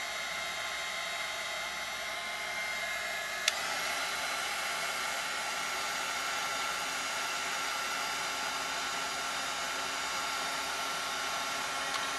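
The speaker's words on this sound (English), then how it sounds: "I'm gonna turn my gun on, my heat gun. And I'm going to just emboss it on here." A heat gun blows a steady, close whooshing hiss while melting embossing powder on a craft surface, with one small click partway through and no talking.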